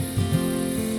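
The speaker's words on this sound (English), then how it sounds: "The cicadas were in full song now" Cicadas singing in a steady, shimmering drone beside the water on a Blue Mountains bass fishing outing, continuous and fairly close throughout the brief moment.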